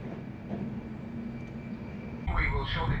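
A passenger train hauled by a Class 67 locomotive runs between Shrewsbury and Cardiff, heard from inside as a steady low rumble, with a louder stretch of rumble and a voice near the end.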